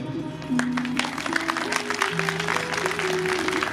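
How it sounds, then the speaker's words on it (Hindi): An audience at a Shiv Mahapuran religious discourse claps in a dense, steady wash of applause, with sustained tones and voices running underneath. "अपने लिए जोरदार ताली बजाओ"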